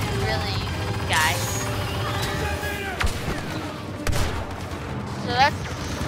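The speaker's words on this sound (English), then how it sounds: "So that's like an airstrike." An airstrike in Star Wars Battlefront 2 gameplay brings rolling bursts of explosive gunfire and booms, with whooshing effects scattered throughout, while a player talks.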